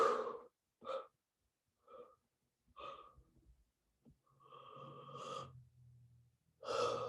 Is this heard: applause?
no